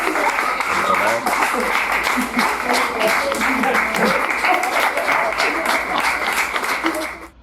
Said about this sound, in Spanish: Pues este aplauso, Manuel, te lo mereces.